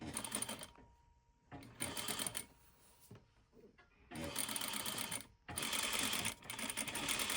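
A sewing machine stitches a slit into a dress in several bursts of rapid, even needle chatter, with quiet pauses between runs and a brief faint murmur in one gap.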